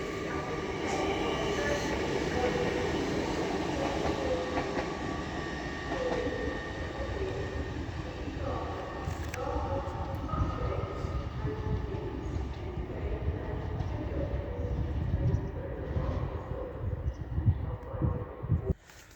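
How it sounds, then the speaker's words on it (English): A single class 152 Northern diesel train from Sheffield pulls into York station, a loud, close rumble and rail noise that holds steady and swells slightly near the end. "So now coming in is a single class 152 for Northern from Sheffield."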